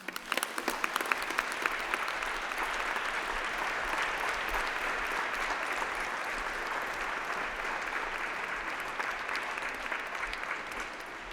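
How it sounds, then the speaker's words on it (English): A graduation ceremony audience applauding, a dense and steady wash of clapping from a large crowd that holds level for about eleven seconds before easing slightly, with no voices over it. "shall we have a round of applause for all those special people who are celebrating here with you today?"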